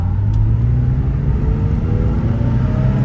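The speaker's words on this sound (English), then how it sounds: "Engine runs strong." A 2003 Nissan 350Z with a factory replacement exhaust idles steadily, its deep, even engine rumble close and continuous with no talk over it.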